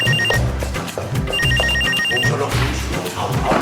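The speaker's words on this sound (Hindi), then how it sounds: "अंदर फोन बज रहा है" An indoor telephone bell rings in two distinct repeated bursts, loud and close, over a busy background of music and room noise.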